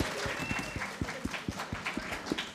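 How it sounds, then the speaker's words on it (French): A studio audience at a French science show claps for itself after a quiz, quiet, uneven clapping with distinct individual hand strikes standing out from a soft crowd patter. "Applaudissez-vous."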